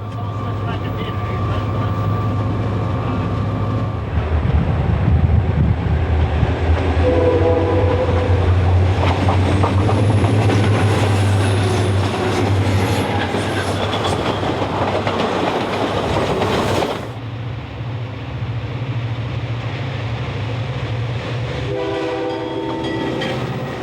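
An Algoma Central tour train rolls out of the rail yards toward the Canadian Shield wilderness, its deep horn sounding in long blasts over rumbling wheels and clattering cars, with a narrator speaking over it.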